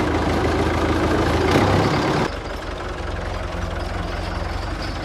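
The engine of a large, heavy tractor idles outdoors with a loud, steady low rumble and a rhythmic knock. A louder surge fades partway through, and the idle then continues.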